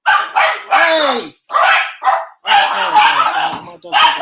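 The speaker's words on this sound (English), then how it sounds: "My dogs are going mental." Dogs bark excitedly in repeated bursts close by, mixed with people talking over them.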